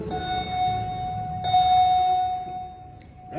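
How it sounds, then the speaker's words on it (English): Elevator arrival chime in a parking garage in Lincoln, Nebraska, where the elevators are under renovation: a sustained bell-like ding rings out over a humming background, with a second strike midway that rings on and fades. "Watch the chime up."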